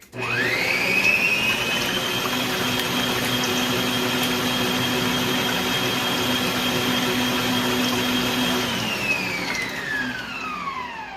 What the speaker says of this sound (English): So now I'm going to give this a quick mix.